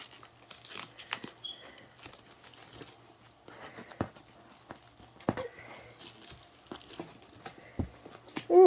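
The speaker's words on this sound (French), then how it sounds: "je vais déballer ça" Plastic packaging of a cross stitch kit crinkles and tears as it is opened, close but fairly quiet, in scattered rustles and sharp snaps with short pauses between them.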